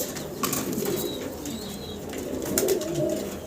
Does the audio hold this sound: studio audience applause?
no